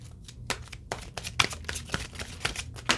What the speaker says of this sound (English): Let me just pre-shuffle this for a second.